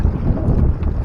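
Strong wind buffeting a small fishing boat at sea, a loud, continuous rumbling roar of wind against the microphone.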